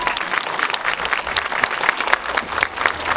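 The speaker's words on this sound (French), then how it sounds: "on applaudit le vainqueur de cette 70e édition, Kristoffer Halvorsen." A crowd applauds the winner of a 70th-edition international cycling grand prix in Isbergues, with steady sustained clapping that stays fairly loud throughout and carries no speech.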